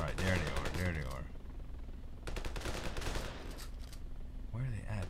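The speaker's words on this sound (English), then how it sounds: "They shoot them from so far away." Gunfire in the video game Ravenfield, a busy burst of rapid shots in the middle stretch, with someone talking over the start and the end.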